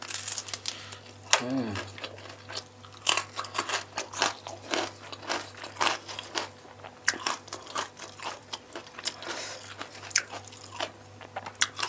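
Crisp, repeated crunching bites and chewing of young jengkol eaten raw as Sundanese lalapan, close and loud in an irregular rhythm, with no talking over it.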